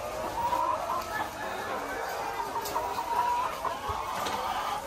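Chickens cluck softly in layer cages, a steady murmur of hen sounds with occasional sharper calls over a low, constant background hum.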